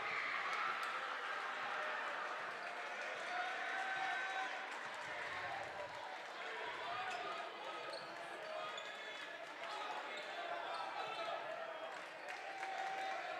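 At a high school basketball game, a gym crowd cheers and murmurs in a steady wash of sound. Sneakers squeak and balls bounce faintly through it, and a commentator talks over the noise.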